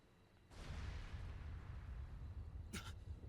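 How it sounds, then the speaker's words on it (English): A muffled explosion at a villa in Trails Through Daybreak 2, a dull rumbling boom that swells and lingers for a few seconds at moderate distance, followed by a brief sharp burst. "What was that explosion?"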